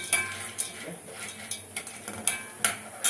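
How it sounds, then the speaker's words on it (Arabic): A utensil stirs hot milk in a pot, giving light scraping and clinking taps at a quick irregular pace, close and fairly quiet with no talking. "ادي تقليبه هنا اللبن بتاعي اهو لانه سخن برضه"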